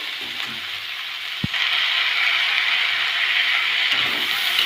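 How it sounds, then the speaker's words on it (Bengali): Chopped tomatoes and vegetables are stirred in a frying pan, giving a steady sizzle with a single sharp scrape of the utensil near the start, close and alone. "টমেটো দেওয়ার পর আবারও ভালোভাবে নেড়ে নেওয়া হচ্ছে।"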